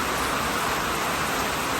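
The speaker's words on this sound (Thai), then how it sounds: "ฝนตกมากเลย" Heavy rain pours down in a dense, constant hiss, loud and close, with no other sounds over it.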